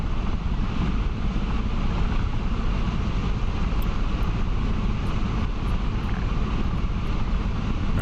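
An AH-64 Apache attack helicopter flies in the DCS combat flight simulator, giving a steady, loud, dense rotor and engine roar that holds evenly throughout with no talk over it.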